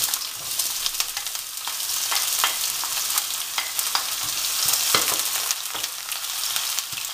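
Onion sautés in oil in a pan with a loud, bright, continuous sizzle and occasional crackles and scrapes, with no voices.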